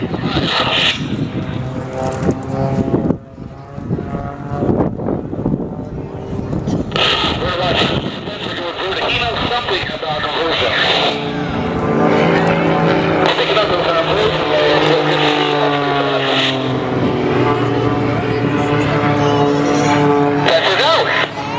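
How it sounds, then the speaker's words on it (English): At an air show, a Pitts aerobatic biplane roars past, its engine droning and shifting in pitch through the passes, loud and steady under a public-address announcer talking throughout. "Spencer's inverted pass demonstrates for you how well the Pitts can fly inverted as well as upright."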